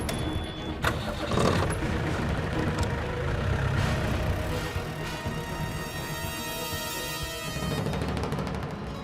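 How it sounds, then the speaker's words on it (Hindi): A car engine turns over and starts, then a steady engine drone builds as the car pulls away, loud and close throughout without speech. "गाड़ी स्टार्ट कर, पीछा कर"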